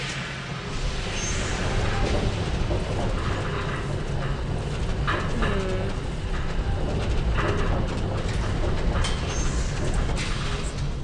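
A lever-summoned tram rolling in within the game world of Riven, a continuous low rumbling and rattling mechanical drone that stays steady and loud throughout with faint clanks on top.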